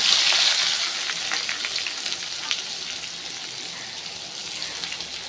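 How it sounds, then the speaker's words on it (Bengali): Chopped onion sizzling in a hot pan with garam masala for a chicken kosha curry, a steady broadband frying hiss that is loudest at the start and eases slightly, with faint stirring clicks and no talk. "এরপর আমি দিয়ে দেবো পেঁয়াজ কুচি"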